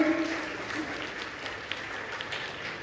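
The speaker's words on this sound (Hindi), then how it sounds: "सभागार में तालियों की गूंज होनी चाहिए।" Applause fills an auditorium during a teachers' honouring ceremony, a steady wash of clapping from a seated crowd that holds at moderate level throughout without any talk over it.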